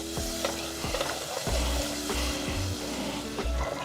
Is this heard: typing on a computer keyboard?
no